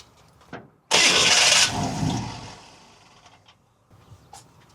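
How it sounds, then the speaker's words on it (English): A car engine fitted with a Holley carburetor, one that had been spraying fuel, cranks and fires in a loud burst, then settles and fades toward a quieter idle, with faint clatter around it. "All right, so I'm gonna go in, start up, and then we're gonna see if we have any fuel leaks"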